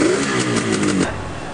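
A modified motorcycle engine revs hard and close, a brief rising buzzy roar that drops away after about a second into a lower idle.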